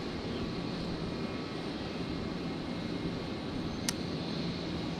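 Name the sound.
Jetstar airliner taxiing at Brisbane Airport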